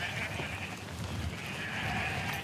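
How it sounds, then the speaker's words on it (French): Sheep bleating in a Corsican mountain pasture as the flock prepares to leave on the autumn transhumance down to the valley, with a steady ewe call drawn out over a busy outdoor background of other animals and movement. "Une brebis sente le départ."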